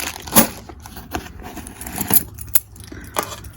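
Metal JMA KW1 key blanks from a locksmith's residential bag jangling and clinking as they are handled, with several sharp, close metallic rattles scattered irregularly.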